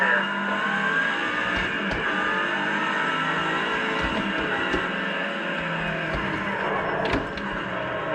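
Race car engines from the video game Project Cars 2, played on a Logitech G29 wheel, drone steadily at high revs throughout, with tyre and shifting noises and a voice speaking over the game sound.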